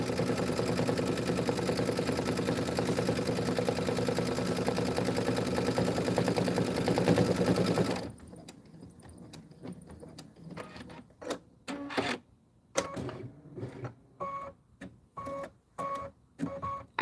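An embroidery sewing machine stitches out a design with a steady, fast mechanical hum for several seconds, then falls to quieter, uneven bursts of stitching and clicks.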